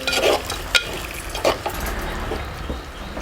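Chicken frying in a clay pot with rock salt, a steady close sizzle broken by a few sharp stirring scrapes and clinks against the pot.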